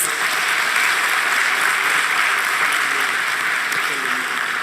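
Audience applause at a stock exchange listing ceremony for a retail silk chain, a sustained, even roar of many clapping hands that holds steady and loud from start to finish.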